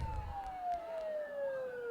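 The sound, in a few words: sirens in a video game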